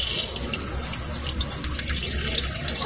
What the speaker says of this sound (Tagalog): saka nang lalagyan ulit ng tubig